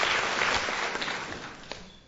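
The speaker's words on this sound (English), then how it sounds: "the marks will be awarded on the length of the applause from the audience here in the theatre" Theatre audience clapping in a burst that starts full and gradually thins and fades over a couple of seconds.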